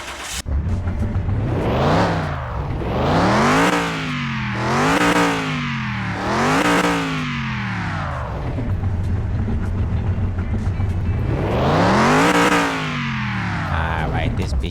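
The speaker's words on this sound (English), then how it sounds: "Let me give it a rev." A car engine just back from a garage repair revs repeatedly, rising and falling in about five strong swells with steady idle between them, close and loud.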